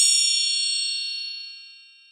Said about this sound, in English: Hitting the triangle on the open end gives you a shimmerier sound with many